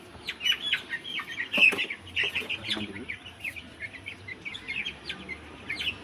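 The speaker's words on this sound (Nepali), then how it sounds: "यो सेतो सेतो चल्ला है 4वटा चल्लाको पहेटा काटेको छ" Four white chicks, not yet a month old and with clipped wings, peep in quick, high, repeated chirps throughout, close by, with a faint low voice underneath.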